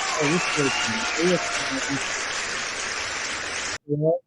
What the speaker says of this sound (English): They stop clapping at once.